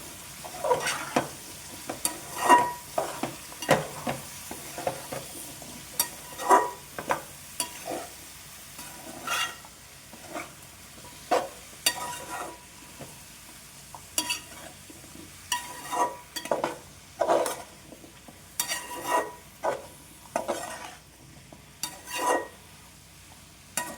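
Bottle gourd curry, village-style pulusu, being stirred in a pan: a steady run of scraping, clattering spoon strokes over a light sizzle, close and fairly loud, with no talking.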